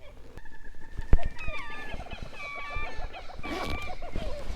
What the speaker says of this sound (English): There's so many just crazy birds out here. Make all sorts of sounds.